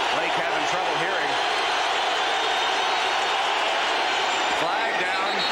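Loud, steady roar of a football stadium crowd at the RCA Dome during a 1995 Bengals at Colts NFL game, filling the whole stretch evenly with a commentator's voice riding over it.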